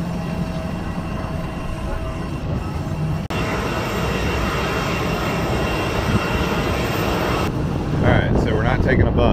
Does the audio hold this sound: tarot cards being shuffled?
no